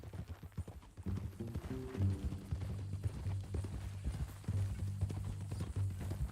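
Horse hooves clip-clop in a steady walking rhythm in the video game Red Dead Redemption 2, moderately loud, over a low humming background.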